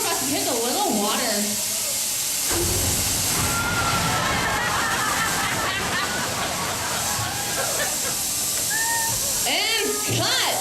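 Water splashes and sloshes over an actor as a practical physical effect on a film set, a loud rushing wash with voices talking underneath.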